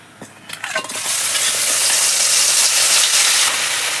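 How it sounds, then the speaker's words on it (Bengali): Black cumin and ground spices drop into hot mustard oil for mango pickle: a few light clicks, then a sudden loud, sustained hiss of frying close by. "মশলাগুলো আমি হালকা করে ভেজে নিয়েছি"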